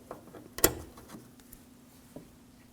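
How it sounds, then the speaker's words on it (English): A sharp click as a hood strut is popped off the hinge of a 2009-2014 Ford F-150, one loud snap followed by a few faint small clanks. "We can pop the strut off."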